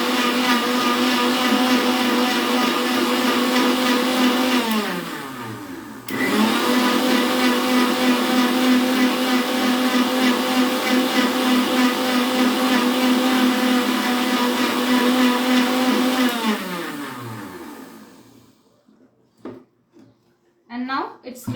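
A mixer grinder blending dry sharbat premix ingredients, a loud steady motor whine that briefly winds down, restarts and runs on before spinning down to a stop, followed by a few small knocks.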